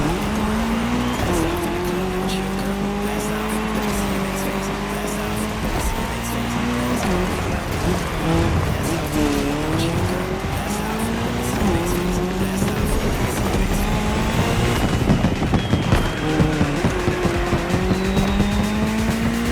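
Race cars roar around a tarmac section of a cross-terrain Red Bull Speed Clash event in The Crew Motorfest, engines revving up and down continuously with tire squeals, loud and dense throughout.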